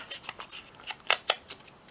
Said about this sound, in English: My big scissors.